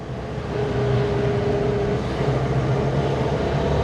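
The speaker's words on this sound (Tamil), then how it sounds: "ஸ்டில் இப்போது 40 கிலோமீட்டர் ஸ்பீடில் போகுது, செகண்ட் கியரில் தான் போயிட்டுருக்கு" A car engine runs in second gear while rolling downhill at about 40 km/h on a mountain road, giving a steady, loud, unbroken drone with a low hum throughout.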